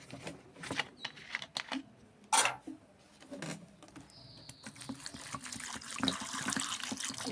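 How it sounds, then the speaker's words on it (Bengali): Water poured over large soybeans to soak them, giving uneven splashing and trickling bursts up close, with faint birdsong in the background. "জল দেবো, সোয়াবিনের মধ্যে ভিজিয়ে রাখবো।"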